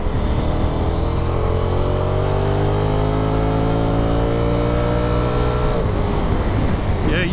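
A 2022 Honda NT1100 motorcycle engine held in third gear pulls steadily upward in a long, continuous acceleration, loud and close with rising harmonic drone and wind rush, easing off near the end; a voice talks faintly underneath.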